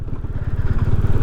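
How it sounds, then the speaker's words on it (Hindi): A motorcycle on a slushy mountain road between Kaza and Kalpa in winter Spiti gives a loud, close, rapid throbbing engine pulse, even and unbroken throughout. "स्लश में बाइक निकालना थोड़ा डिफ़िकल्ट है"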